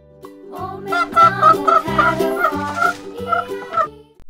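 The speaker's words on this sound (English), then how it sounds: "Hen." A farm hen giving a run of rhythmic, throaty clucks and gobble-like calls, close and clear, with brief pauses between bursts and no talking.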